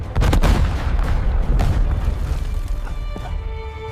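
A grenade explosion bursts in a heavy, booming blast with rumbling debris and a few sharp cracks, loud and close, decaying over several seconds.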